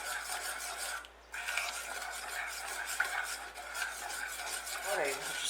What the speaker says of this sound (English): now I'll just keep stirring until they've all mixed in